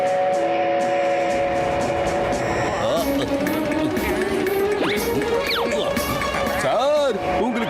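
A cartoon train rumbles and clatters along the tracks with a whistle sounding, while people talk over the steady mechanical noise.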